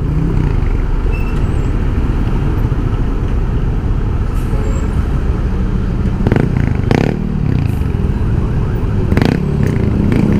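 Motorcycle tricycles pass along a cramped, narrow road in steady traffic, their engines droning close by with a couple of brief louder swells as vehicles go past.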